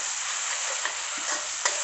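Genjer, or yellow velvetleaf, is stir-fried in a pan, giving a bright, steady close-up sizzle with a few light taps and clicks.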